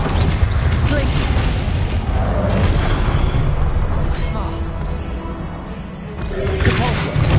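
A Glacius freezing spell cast in the Hogwarts Legacy video game, a dense booming whoosh amid continuous loud game effects and combat noise.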